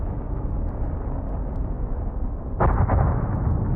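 A low continuous rumble, then a sudden deep booming blast with a couple of quick follow-up thuds from a volcanic eruption, heard very far away in Cincinnati and heavily muffled.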